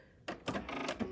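A sewing machine with a laser guide runs a straight stitch in short mechanical bursts, whirring close by with brief pauses between runs.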